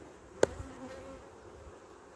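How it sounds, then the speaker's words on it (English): A wasp buzzes close by near a bee hive in an apiary, a faint hum with one sharp brief buzz or tap standing out over quiet outdoor background. "That was a wasp taking an interest in the hive."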